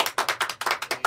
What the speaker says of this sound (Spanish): un aplauso para eso